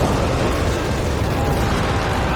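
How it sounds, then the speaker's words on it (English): Carpet bombing in Company of Heroes 3: a dense, continuous wall of rumbling explosions, loud and close, with no single blast standing out from the sustained roar. "Carpet bombing coming in."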